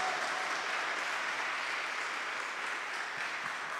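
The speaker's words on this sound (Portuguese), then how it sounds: "Vamos aplaudir?" A church congregation breaks into steady, dense applause that fills the whole short moment at an even, fairly loud level, with no voices standing out.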